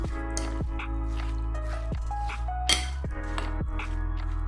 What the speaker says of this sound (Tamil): இப்போ நல்லா மிக்ஸ் பண்ணிடலாம்